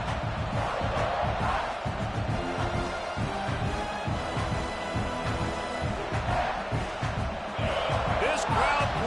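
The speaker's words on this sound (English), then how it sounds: "This crowd bringing the energy and noise early" A large stadium crowd at an Auburn football game roars continuously with cheering and yells, a dense, loud wall of noise that holds steady throughout.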